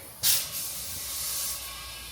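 Compressed air hisses into a FloatWheel ADV tire during inflation, a sharp loud burst at the start settling into a steady close hiss that eases slightly toward the end.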